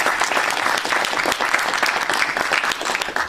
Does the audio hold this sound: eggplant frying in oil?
no